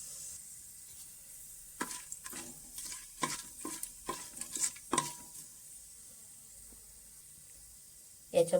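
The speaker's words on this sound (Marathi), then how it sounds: "तुपावर आपण परतळून घेऊ।" Whole spices (cumin, cloves, cinnamon, star anise, cardamom and bay leaf) fry in ghee with a quiet hiss, stirred in a burst of scraping clicks that fades to near silence.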